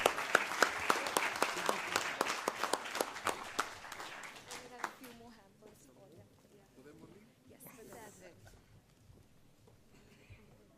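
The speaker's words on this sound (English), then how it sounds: "Big round of applause, please. I'm sure we can do better." Applause from the audience at a debate prize ceremony: a burst of sharp, distinct claps for about four seconds, then thinning into scattered claps amid murmuring voices and background chatter.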